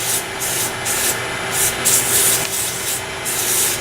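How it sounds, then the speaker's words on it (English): Cloth-backed 180 grit sandpaper rubs against spinning turned wood for furniture, a close, steady rasping hiss that swells in rhythmic strokes roughly every half second. "I'm using 180 grit, and I'm using cloth flexible sandpaper."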